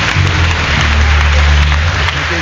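Church congregation at a Sunday evangelical worship service in Haiti applauding, a dense, loud, steady wash of clapping with no break.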